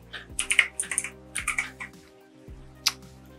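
Typing text on a computer keyboard for a Photoshop text effect: a quick burst of crisp, close key clicks, a short pause, then a few more taps and one final sharp keystroke.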